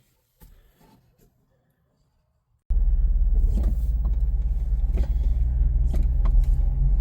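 Steady, loud engine and road rumble fills the cabin of a Jeep JK as it drives, beginning abruptly after a few seconds of near silence with a couple of faint knocks.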